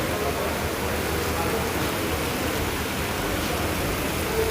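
Steady rain falls in Sylhet city, a dense, even hiss that holds at the same loudness throughout with no breaks.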